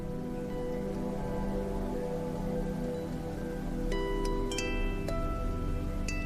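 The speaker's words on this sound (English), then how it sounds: "The air cools, and soon gentle rain begins to fall." Gentle rain falls in a steady, soft wash that stays even throughout, with a few faint bright tones rising near the end.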